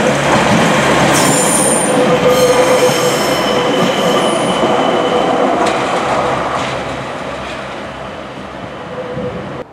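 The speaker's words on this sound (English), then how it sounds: "it's lucky that I've got back here early before that Pacer train comes through here" A Class 142 Pacer diesel train rolls loudly through Walsall station, with continuous rumbling wheels and high squealing tones as it passes close by, fading slightly toward the end; no talk.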